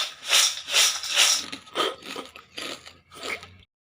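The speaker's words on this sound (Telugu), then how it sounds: "ఈ విధంగా కార్న్‌ఫ్లెక్స్, పల్లీలు, పుట్నాలు వేయించుకోవాలి." Cornflakes, peanuts and roasted gram being tossed dry in a pan: a run of bright crackly rattling bursts, roughly rhythmic as the mix is stirred, close and fairly loud, with no talking.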